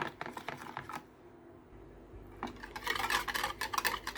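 Soy sauce and salt stirred into a sweet and sour sauce, a series of soft clinking and scraping strokes in a bowl, with a brief quiet pause midway before the stirring picks up again.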